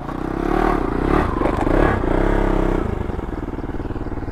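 A motorcycle ridden on a road in Dharan, its engine droning loud and close with a steady hum and a slight rise in pitch, then settling into a rough, pulsing idle.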